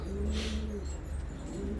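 Pigeons of the Filo Elvan breed in a loft give soft, low cooing calls, two drawn-out coos, faint and fairly close, against quiet background hiss.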